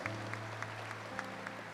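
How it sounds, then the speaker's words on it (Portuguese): Faint applause rises from a Mass congregation welcoming first-time visitors, a soft, even patter of clapping with a low sustained tone beneath it. "Vamos acolher com uma salva de palmas,"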